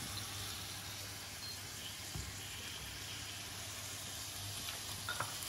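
Thyme and bay leaf frying in a pan, a steady soft sizzle with faint crackles and the odd stir, close and quiet with no talking.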